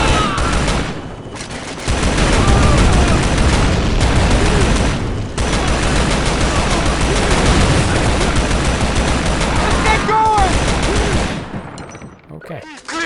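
A mounted turret machine gun fires long sustained bursts in the video game Shadow Ops: Red Mercury, loud and dense with brief pauses, amid distant explosions and game voices.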